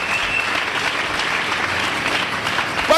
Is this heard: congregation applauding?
yes